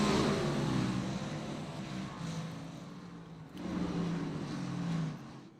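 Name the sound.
stock cars racing at Martinsville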